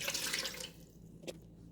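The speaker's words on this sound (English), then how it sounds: "I'm gonna put 2 cups of water in the bottom of the Speedi." Water poured into the bottom of a Ninja Speedi cooker, a bright splashing stream for under a second, then a brief drip or clink, close and clear.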